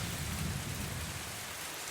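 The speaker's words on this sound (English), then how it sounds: "Hard to relax with what with the looming storm" Steady rain with low rolling thunder from a looming storm, a dense continuous wash of rainfall over a deep rumble, heard alone as an ambient effect.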